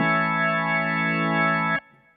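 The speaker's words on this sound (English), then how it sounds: "Hammond Model 2, Hammond Model 3. Again, 1, 2, 3. Pull all the bars out." Hammond organ emulation with all drawbars pulled out, compared on Nord and Yamaha YC keyboards, sounding as one loud, full sustained chord held for almost two seconds before cutting off into a faint tail.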